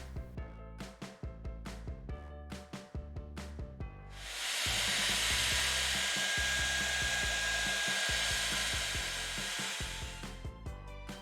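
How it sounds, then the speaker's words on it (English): A blow dryer pushes hot air over wet masking fluid on paper, a steady loud whooshing hiss that starts partway through after a series of sharp clicks and knocks and runs continuously to the end. "speeding up the drying with a blow dryer"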